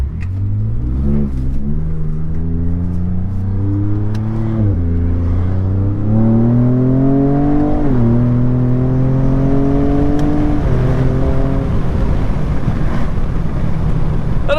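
Ford Raptor pickup fitted with an AWE 0FG exhaust revs hard. The loud, raspy engine note climbs in several stepped surges, then settles into a deep rumble, with wind buffeting the microphone and no one talking.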